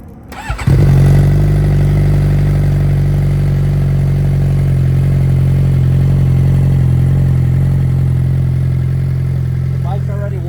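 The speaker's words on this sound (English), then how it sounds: "this is the startup of the slip-on" A 2019 Suzuki GSX-R600 sport bike fitted with an M4 slip-on exhaust cranks briefly, then fires and settles into a loud, steady, close idle that holds to the end.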